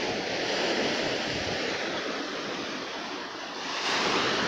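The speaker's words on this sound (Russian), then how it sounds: "А море все волнуется у нас." Sea waves break steadily on heaped stone breakwaters along a seaside promenade on a sunny English coast, a broad continuous roar of surf with some wind, close and loud with no speech.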